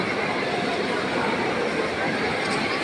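Busy ambience at Sealdah railway station, West Bengal, India: a dense, steady roar of crowd murmur and distant train rumble, with no single sound standing out.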